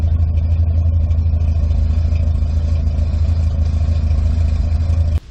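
A car engine fitted with a new Thrush exhaust rumbles steadily and loudly at close range, a deep continuous drone with a throaty exhaust note, cutting off abruptly near the end; no one speaks.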